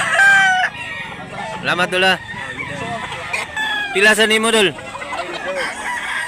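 Roosters crow loudly and chickens cluck close by at a busy poultry market in Mantalungon, Cebu, with repeated crows rising above the chatter of people talking.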